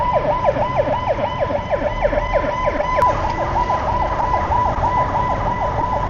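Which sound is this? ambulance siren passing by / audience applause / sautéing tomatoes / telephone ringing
ambulance siren passing by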